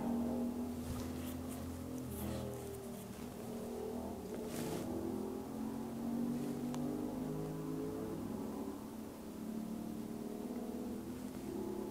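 A loud vehicle drives past outside at night, a continuous engine roar that swells and holds at moderate distance for several seconds, with no talk over it.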